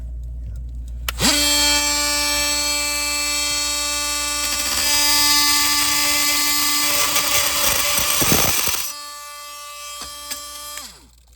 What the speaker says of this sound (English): now we're going to use an oscillating saw